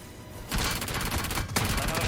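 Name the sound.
gunfire in BGMI video game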